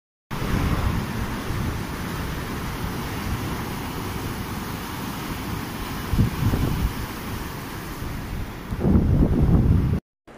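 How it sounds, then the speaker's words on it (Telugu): Forceful water waves crash near Gangavaram, Vizag, as a steady broadband roar mixed with wind buffeting the microphone, with heavier surges around the sixth and ninth seconds. "వాటర్ చాలా ఫోర్స్ గా కొడుతుంది చూడండి"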